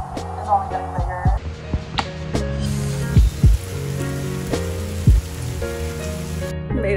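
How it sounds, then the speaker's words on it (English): Heavy rain pouring down outdoors on a college campus, a steady wash of noise with scattered louder thumps and knocks, close and moderately loud. "this rain is only getting bigger"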